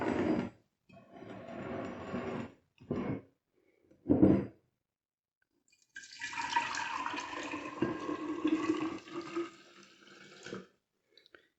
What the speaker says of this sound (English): I'm gonna pour it into a half gallon jar.